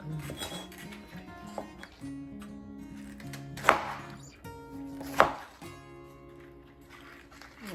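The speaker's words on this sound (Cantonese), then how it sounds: "將佢切成粒粒" A knife chops a vegetable into small cubes on a cutting board, rapid even taps with two louder knocks, close by and without talk.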